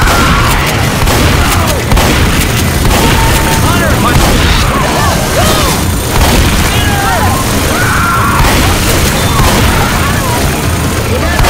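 Pipe bomb going off in Left 4 Dead 2 amid constant loud gunfire and booming, a dense, chaotic din of shots and blasts running throughout with shouting voices over it.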